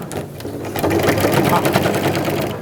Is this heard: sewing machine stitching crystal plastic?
yes